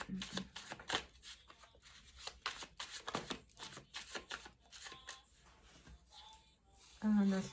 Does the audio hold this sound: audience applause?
no